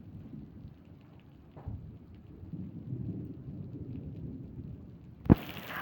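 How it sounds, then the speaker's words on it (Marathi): Thunder rolls low and long through heavy monsoon rain in Gadchiroli, a deep rumble swelling and fading under steady rain hiss, ending in a sudden sharp close crack. "गडगडता आभाळ,"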